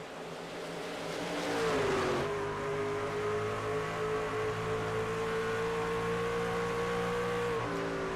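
Racing truck engines in a simulated truck series race at Phoenix, a loud sustained engine drone with a brief rising rev before settling into a steady high-pitched whine, close and continuous.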